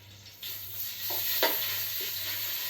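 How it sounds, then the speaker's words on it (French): Pieces of veal brown in a hot pan, a gentle sizzle rising after a quiet start, with a few soft utensil knocks and scrapes on top and a low steady hum underneath. "je vais mettre mes morceaux de viande à rissoler"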